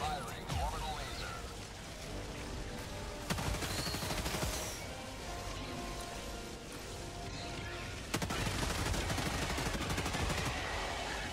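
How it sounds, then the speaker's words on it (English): An orbital laser strike in Helldivers fires as dense, crackling bursts over continuous heavy gunfire and explosions. The barrage is loud throughout, with sharp surges near the start and end and a voice talking over it. "Firing orbital laser."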